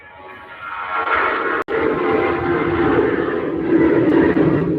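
A Jet2 jet airliner taking off at Manchester Airport in icy weather sends out a loud, sustained engine roar, a broad rushing rumble that swells and holds steady throughout, with no voices.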